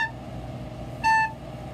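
A single short recorder note, bright and steady with clear overtones, sounds briefly and alone at moderate volume as one quarter-note beat, surrounded by quiet room hiss.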